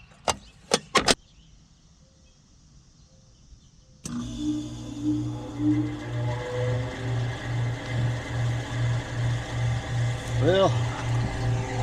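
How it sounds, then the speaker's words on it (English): An HVAC fan motor in a Goodman gas pack with worn bearings starts after a few clicks, then hums with a steady pulsing throb and rising squeal that fill the space, while someone speaks briefly. "it started up, but this fan motor, unfortunately, is going to be toast, so that is the bearings as well"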